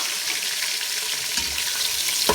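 Steady hissing sizzle of onions frying in hot oil for chicken pulao, close and continuous, with a couple of small clinks.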